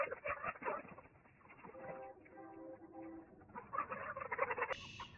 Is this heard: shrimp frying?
no